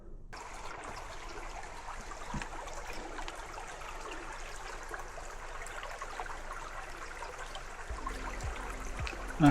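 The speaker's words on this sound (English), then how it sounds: "Nice little babbling brook." A small babbling brook flows steadily in quiet countryside along a bikepacking route, a continuous soft trickling and splashing of water with no voices.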